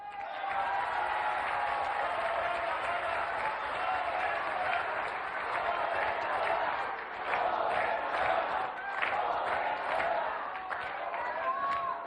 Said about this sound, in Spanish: Le damos un aplauso también a Mara Lezama